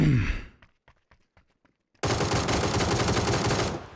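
Gunfire in the battle-royale game PUBG: a loud blast fades out, a string of quick, quieter shots follows at an even rhythm, then a sudden, sustained wall of dense, loud fire fills the last two seconds with no talking.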